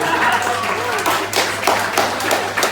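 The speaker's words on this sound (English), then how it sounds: "Round of applause, please" Audience applause at a live strudel-making show, a loose burst of clapping from a small crowd with some speech mixed in over the clapping.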